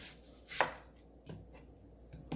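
A knife chops an onion in a quiet kitchen, giving a few sparse, soft cutting thuds with one clearer strike near the start. The sound is close but low in level, and no one talks.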